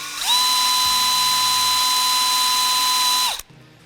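A small electric drill with a 5/64 drill bit bores a hole into a crankbait fishing lure, a loud steady high whine holding for about three seconds before cutting off, with nobody talking.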